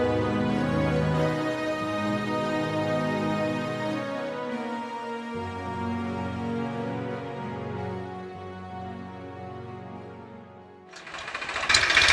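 A tractor engine runs steadily for a long stretch, a loud close droning hum with shifting tone partway through, then a sudden burst of harsher noise at the end, with no talk.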